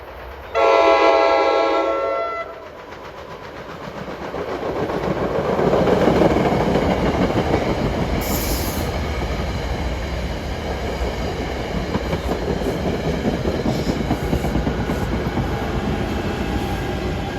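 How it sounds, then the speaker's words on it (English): A NJ Transit push-pull passenger train, number 660 from Dover to Hoboken, passes Mountain Station, opening with a loud horn blast followed by a long, building roar of wheels and clattering cars that stays strong to the end. "here comes 660, Dover to Hoboken with push-pull equipment at 5:12"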